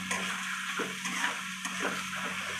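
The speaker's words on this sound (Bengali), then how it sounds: "এবার একটু নাড়াচাড়া করে নেবো" Soaked Gobindabhog rice being stirred in a pan, with a steady soft scraping and light sizzle and a few stronger scrapes of the spoon across the short stretch.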